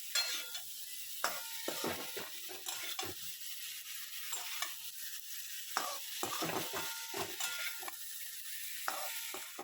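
Spices sizzle in oil in a curry pan for a Bengali elephant foot yam dish, with intermittent scraping and clacking stirring strokes over a quiet background hiss, close and fairly soft.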